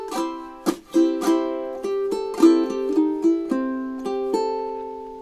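Ukulele picking the pickup bar and opening two measures of a song, a bright run of plucked notes and strums in steady rhythm, close and clear with no voices.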